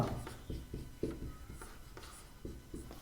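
Pen strokes scratch across paper in short repeated bursts while sums are worked out by hand, close and fairly soft, with a quick irregular rhythm and no talking.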